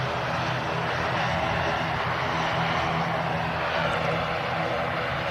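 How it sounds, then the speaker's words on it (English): Loganair ATR 72 turboprop airliner at Manchester Airport, a steady broadband engine and propeller roar holding at a constant level throughout, moderately loud and unbroken, with no voices. "Logan Air, ATR 72. Just arrived here at Manchester."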